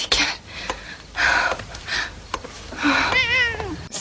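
A cat meows in a tense horror film scene with a creaking door, a long drawn-out wavering yowl near the end following several shorter breathy vocal bursts, close and fairly loud.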